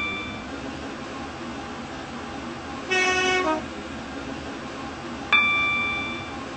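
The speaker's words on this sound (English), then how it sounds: "This train is now approaching Stepford Airport Central." A train pulls into a station in the Roblox game Stepford County Railway, with a steady rolling rumble, a short chime partway through, and a loud horn blast near the end.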